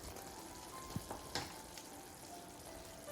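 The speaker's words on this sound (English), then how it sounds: "it's sizzling" Salmon curry sizzles quietly in a pan, a soft steady frying hiss with a few small pops and clinks, no talking.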